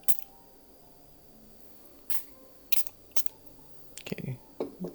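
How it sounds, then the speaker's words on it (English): A hand spray bottle mists water onto a watercolor painting, giving a few short, sharp hissing spritzes spaced apart over a quiet room background. "Let me spray some mist on it."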